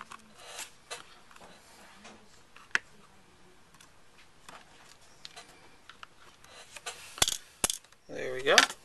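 Screws being removed from a Nintendo DS handheld during a top LCD repair, heard as scattered small clicks and taps from a screwdriver and the case, with sharper scraping bursts toward the end and faint talk in places.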